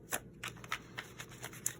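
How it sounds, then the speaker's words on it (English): Tarot card deck being riffle shuffled by hand, a quick run of crisp, close papery flutters and soft snaps in brief bursts over a couple of seconds, with no talking. "Let's see how we riffle shuffle"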